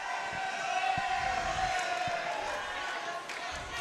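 A high school student section cheers at a volleyball match, a steady distant crowd roar with scattered shouts and a few sharp thuds, fairly faint throughout.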